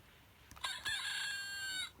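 Rooster crowing as a sound effect from a children's storybook, a single short, bright electronic-sounding cock-a-doodle-doo, fairly faint and alone.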